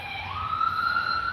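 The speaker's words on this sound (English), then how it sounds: "we got the fire truck sirens in the background" A siren wails in the background, its tone sliding steadily upward and holding, faint and distant under a low hum of room noise.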